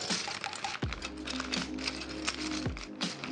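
Close, steady typing on a Space 65 Cybervoyager R2 mechanical keyboard fitted with Tangerine switches, with many quick key clicks and a few deeper thocks in a quiet room.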